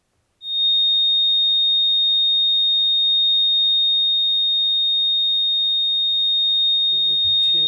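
A 3,699 hertz test tone for cymatics sounds as a pure, piercing steady beep that starts abruptly and holds unchanged for about seven seconds, with faint rustling and a few soft knocks near the end.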